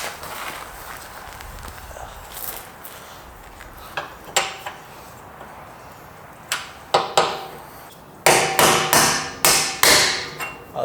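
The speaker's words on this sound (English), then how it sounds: "try to hammer the pin up and out" A stuck pin is hammered up and out from below on an overland Toyota 4Runner, with scattered metallic taps early and then a loud, rapid run of hard, ringing strikes close by.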